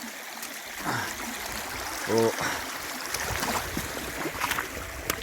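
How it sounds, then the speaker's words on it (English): Stream water at a small river crossing on a walk, a broad steady rush of flowing water close by, with a brief exclamation from a walker and a short burst of tonal noise partway through. "Oh, little river crossing."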